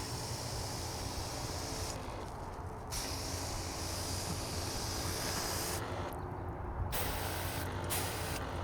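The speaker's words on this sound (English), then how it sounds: "this keg sprayer is a success" A keg sprayer blasts rinseless car wash solution onto a dirty car's paint, a steady loud pressurized hiss that runs continuously and cuts out briefly twice as the trigger is released, with no talking.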